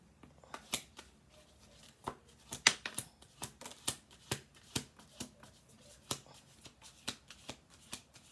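Tarot cards are shuffled and then laid out one by one, giving a quiet, irregular run of crisp snaps and light slaps on a table, close and intimate.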